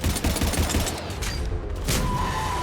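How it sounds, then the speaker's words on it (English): Gunfire and a booming barrage from a Harvester in Mass Effect 3, dense and continuous rumbling fire with crackling bursts, close and loud throughout. "Harvester firing on the Turian!"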